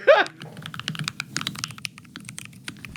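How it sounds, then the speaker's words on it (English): Typing on a computer keyboard at home, a rapid irregular patter of close, crisp key clicks that runs steadily for the whole stretch after a brief louder thump at the start. "that's what it sounds like when you're typing at home"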